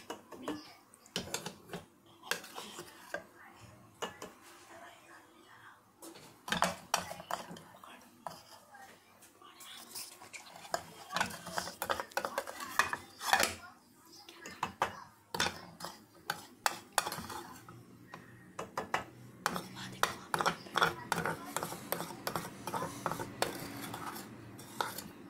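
Chocolate being stirred and scraped in a beaker while making homemade dark chocolate, giving irregular clinks and rubbing scrapes over a soft background, close and moderately quiet.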